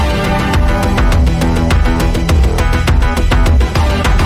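The UVI Darklight virtual instrument plays a loud, dense electronic track with sharp regular percussive hits over a thick sustained bass and synth bed, running continuously with no talking.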